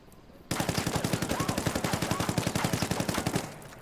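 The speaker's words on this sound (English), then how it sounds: "Now, time for the hip fire." The SC 4000 rifle fires from the hip in Ghost Recon Wildlands, a rapid, loud, evenly spaced automatic burst of about three seconds that stops abruptly.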